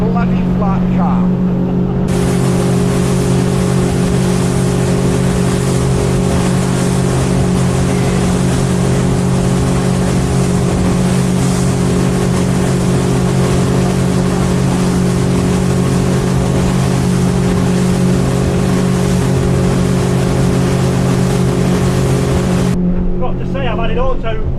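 Motorboat engine roaring steadily at speed for the whole stretch on a flat calm sea, loud and close with strong low hum, wind and water rush layered over it, heading out from Newcastle on a wrecking fishing trip.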